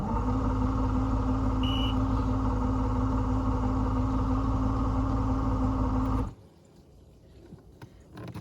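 A two-stroke outboard on a 2004 Stratos 285 ProXL dual console boat idles loudly and steadily from a cold start, a close, buzzy drone that cuts off abruptly near the end, leaving only faint background noise.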